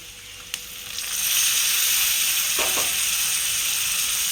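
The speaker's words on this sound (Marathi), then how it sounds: "आता याच्यामध्ये घालायचे टोमॅटोज" Two medium tomatoes hit a hot pan of spiced oil, and a bright, steady sizzle swells up after a small knock, then holds loud and continuous with a few brief scrapes.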